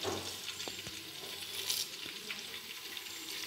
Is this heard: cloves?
yes